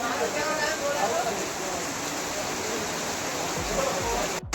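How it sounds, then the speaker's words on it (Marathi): Heavy, steady monsoon rain pours down close by in a continuous, dense hiss with no letup, and a few faint low thuds come near the end. "आपला आमच्याकडचा पाऊस बघा किती जोरदार हे आत्ता आलेलं आहे"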